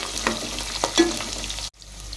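Onions and green chillies with coriander and mint sizzling in a pan for Telangana-style chicken pulao, a steady close fry with a few stirring scrapes before a brief cut.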